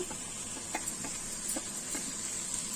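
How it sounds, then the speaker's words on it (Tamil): Carrot, beans and cauliflower sautéing in oil, soft sizzle under a rhythmic series of light ticking scrapes from stirring, quiet and close. "எல்லா காய்கறி கலவைகளையும் எண்ணெயில் சேர்த்து நல்லா வதக்கி விடுங்க"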